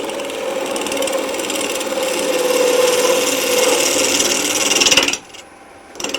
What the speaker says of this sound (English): We're going to do a few peeling cuts just to get this end down to where we want